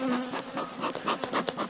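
Bees buzz close around a beehive in early spring, a dense, loud droning hum with individual insects rising and passing near, no voices present.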